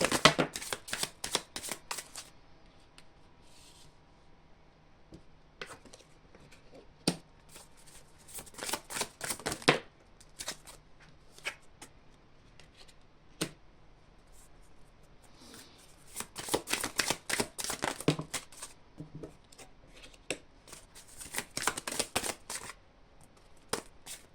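Tarot cards are shuffled for a reading in quick riffling bursts, close and crisp, with pauses of near silence between the rounds and no talking.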